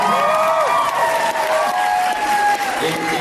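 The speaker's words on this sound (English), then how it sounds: "round of applause for the milking" A fan convention panel crowd breaks into loud, continuous applause with cheering and a few raised voices mixed in, the clapping filling the room throughout.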